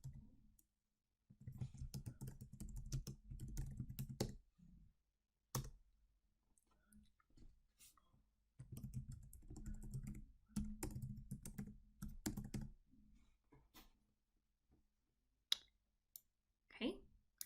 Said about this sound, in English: So I'm going to go ahead and type in my help information.